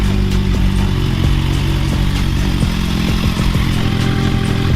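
A Kawasaki Z1000 motorcycle engine runs steadily at idle after an oil change, a loud close, continuous rumble with a rapid lumpy pulse and faint mechanical clatter throughout.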